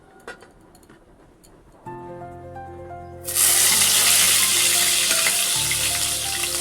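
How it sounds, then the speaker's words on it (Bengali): Green chillies and garlic drop into hot oil for tempering, setting off a loud, bright sizzle that erupts partway through and keeps crackling steadily over a quieter tonal hum heard at the start. "কাঁচা লঙ্কা রসুন তেলে ফোড়ন দিয়ে দিয়েছি"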